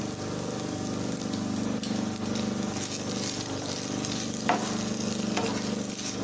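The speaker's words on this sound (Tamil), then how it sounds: "இதை கொஞ்சம் அந்த நெய்யிலே வதக்கிக்கலாம்." Flattened rice (aval) sizzles as it is sautéed in ghee in a pan, a steady close frying hiss with occasional stirring scrapes, no one talking.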